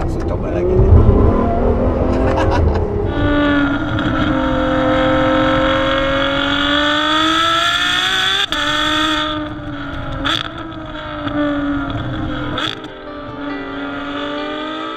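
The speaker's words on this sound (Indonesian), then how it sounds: "suara V12 Ferrari yang memang selalu indah buat didengar" A 2015 Ferrari F12 Berlinetta's V12 engine revs and accelerates hard, its loud rising and falling wail close by, with talking mixed in throughout.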